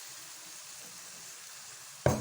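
Onions fry with a soft, faint sizzle in a pan. Tomato paste then hits the pan with a sudden, louder hiss and splutter near the end.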